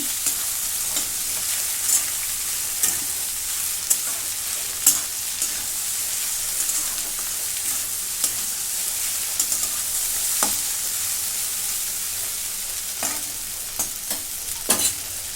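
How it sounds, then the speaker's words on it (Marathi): Okra sizzles and crackles steadily in a hot pan while being stirred, with irregular scraping clicks of the spoon over a continuous frying hiss. "आता ही भेंडी टाकून देते परतून घेते"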